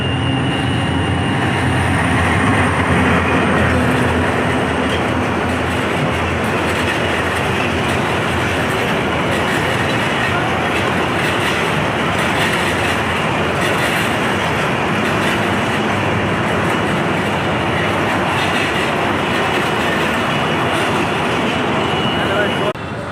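A train passes on the Mohakhali railway line, a loud, close, continuous rumble of wheels and carriages with a rattling clatter that fills the whole stretch, steady from start to finish.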